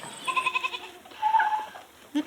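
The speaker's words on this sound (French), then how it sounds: "c'est des chèvres corses, puisque c'est celle qui est le plus adaptée aussi à notre territoire" A herd of Corsican goats bleats in a wavering, nasal chorus of overlapping calls, moderately close, followed by one short, higher cry.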